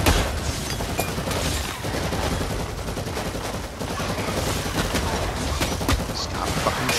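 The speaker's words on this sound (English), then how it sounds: "Stop fucking shooting me." Heavy gunfire in the Warhammer 40k Eternal Crusade video game, dense rapid bursts of shots and impacts running continuously and loud with no pause.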